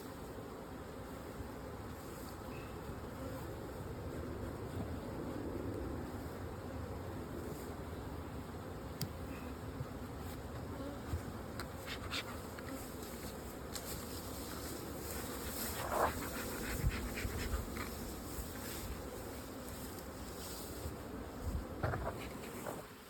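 Honey bees buzz steadily around hive frames of developing brood, a dense continuous drone that sits close and fills the whole stretch, with a few sharper passes as individual bees fly near.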